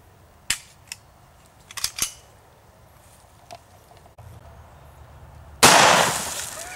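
Extreme Shock .45 ACP Air Freedom rounds fired from an H&K USP through drywall at about 7 or 8 yards, heard as several sharp cracks spread out over a few seconds, followed by a loud, broad blast that rings on.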